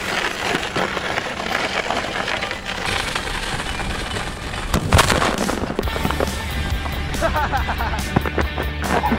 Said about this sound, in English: riding an exploding bike down the hill